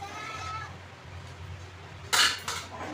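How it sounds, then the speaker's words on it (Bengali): A metal wok on a home stove is knocked and shifted into place, giving a bright clatter and a second clank right after, close by, over a low background hum. "কড়াইটা সোজা করে নিলাম"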